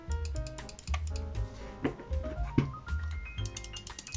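Crisp rapid clicking of mouse buttons, close up, with irregular taps layered over a faint background hum.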